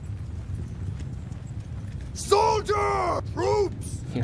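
Clopping hooves of mounted archers in Bannerlord trot as a steady low rumble, then a horse whinnies loudly twice in the final seconds.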